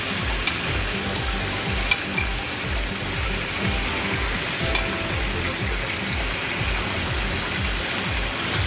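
Chicken pieces for arroz con pollo browning in a pan on the stove, a steady close sizzle and crackle with a dense hiss that holds even throughout, with no talking.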